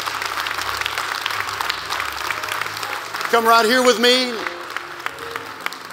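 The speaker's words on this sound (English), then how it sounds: "Keep on clapping while they come." Church congregation applauding steadily in a sanctuary, a continuous wash of clapping with someone talking over it and a brief sung or drawn-out vocal swell partway through.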